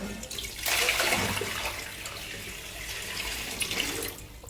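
Water splashing and running as ragi (finger millet) grain is washed, a loud close gush that swells after the first half second, holds steady, and eases near the end, with no voices.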